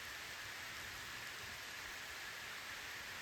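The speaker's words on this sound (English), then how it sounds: "Starting to rain" Rain falls steadily at a forest campsite as tents go up under dark clouds and wind, a soft, even hiss of drops on surfaces, faint and unbroken, with no voices.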